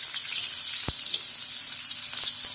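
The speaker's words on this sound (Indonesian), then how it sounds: "Minyaknya udah panas. Kemudian kita masukkan bawang merah," Shallots sautéing in hot oil for an Acehnese grouper gulai with roasted coconut, giving a steady close sizzle with a brief sharp crackle near the middle and light scraping underneath.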